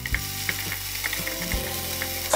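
Ginger and onion paste fries in hot oil over browned onion for a Bengali tengra fish curry, a soft continuous sizzle broken by scraping stirs of a spoon against the pan.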